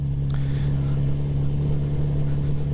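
Steady low engine drone of a Kawasaki Z900 RS motorcycle riding across Dartmoor, a constant loud hum with wind rush and no talk.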